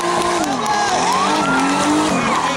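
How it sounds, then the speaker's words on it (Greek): A powerful rally car on a timed stage in Larisa, 2012, passes loudly and close, its engine note rising and falling through gear changes with tyre noise, while a commentator talks over it throughout. "Πολύ δυνατό το αυτοκίνητο, ωραίο πέρασμα."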